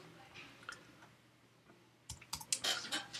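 Someone types an email on a computer keyboard, sparse soft clicks early on, then a quick burst of keystrokes near the end, quiet and close in a calm room.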